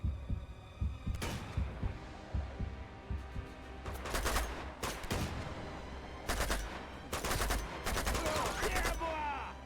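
Gunfire in the video game Uncharted 2, several bursts of rapid shots in clusters with pauses between them, loud and close over a low rumbling game background.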